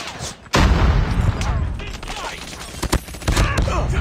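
A Call of Duty grenade blast booms loudly near the start, followed by bursts of gunfire and sharp shots through the rest of the firefight.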